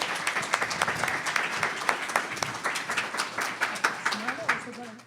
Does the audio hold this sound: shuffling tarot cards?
no